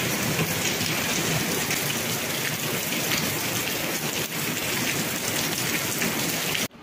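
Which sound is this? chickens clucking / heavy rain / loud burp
heavy rain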